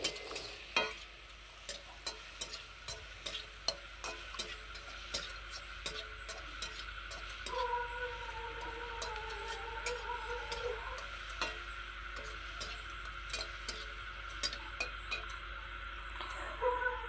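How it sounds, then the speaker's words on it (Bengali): Fried momos are stir-fried in a pan for chilli momos, with a faint steady sizzle under repeated light ticks and taps of a spatula against the pan, gently rhythmic throughout. "আর এই মোমোগুলোকেও কিন্তু এখন 1 থেকে 2 মিনিট এরকমভাবে নাড়াচাড়া করে নিতে হবে"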